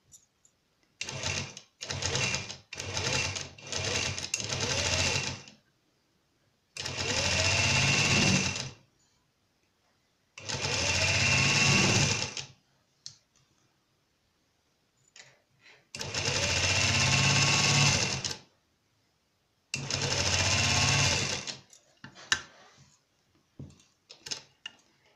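A sewing machine stitches trouser crotch seams in several bursts, first short rapid stops and starts, then longer steady runs of loud, close whirring separated by quiet gaps.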